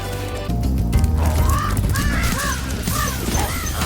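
A vulture enemy in Spyro Reignited Trilogy squawks in a series of harsh, cawing calls that repeat in a loose rhythm over continuous game music and ambience.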